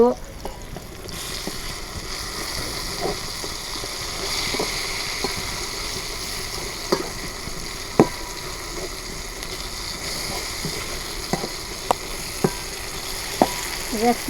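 Steady oil sizzle from a pan of spiny gourd frying, with scattered sharp pops and spatters, fairly close, continuing throughout with a faint hiss underneath.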